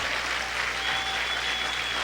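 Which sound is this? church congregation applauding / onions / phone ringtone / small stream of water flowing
church congregation applauding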